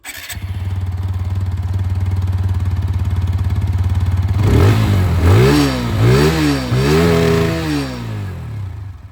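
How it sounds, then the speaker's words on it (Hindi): A TVS Apache RTR 160 2V motorcycle engine idles with a steady exhaust thrum, then is revved several times, rising and falling in loud repeated surges close by. "ये थे अपाचे RTR 160 2V की आवाज़"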